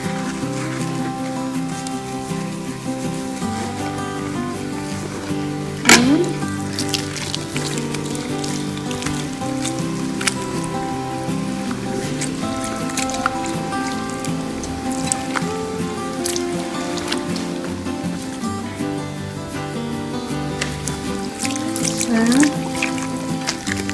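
Water running and splashing steadily through hair being rinsed during a hair wash, a continuous close trickling and dripping with music playing underneath throughout.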